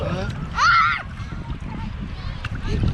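A small sea wave washes in at a warm, clear-water beach with a brief splash and slosh, near and moderately loud, while a person talks over it.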